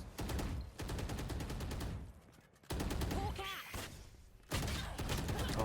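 Gunfire in a Valorant pro match, TENSTAR playing defense: loud bursts of rapid automatic shots in several volleys separated by short pauses, with a few sharp single cracks, heard alone.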